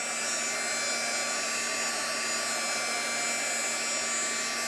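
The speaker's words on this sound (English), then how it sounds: "And then you just take your heat tool again, and you're going to heat it." Heat tool blowing hot air over an art journal page, a loud, steady, close whir with a high whine held unchanged throughout.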